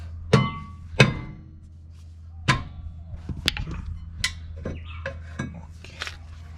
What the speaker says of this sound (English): with my rubber mallet I'm gonna be pounding the rotor to get it off